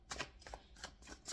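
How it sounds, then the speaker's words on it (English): A deck of tarot cards being shuffled by hand, several quick riffling bursts in a row, close and soft in an otherwise quiet room. "One more shuffle for the Strength card."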